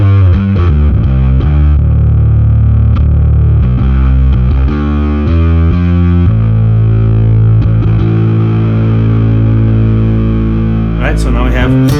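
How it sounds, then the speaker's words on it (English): Bass guitar split into a clean rig and a distorted rig, loud gritty low notes played in short riffs, then a long sustained droning note with squealing harmonics near the end. "So now we have clean sound coming out of one and dirty sound coming out of the other."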